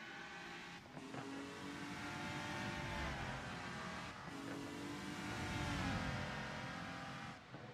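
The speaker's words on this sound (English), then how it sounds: "And that's a nice, easy overtake for Dennis Kurzer" Race car engines roar in the Rennsport racing game as cars overtake, a loud sustained whine of high revs with gear shifts around one, four and seven seconds, no voices.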